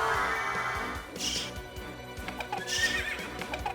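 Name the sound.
horses neighing and hooves in the video game Castlevania SoTN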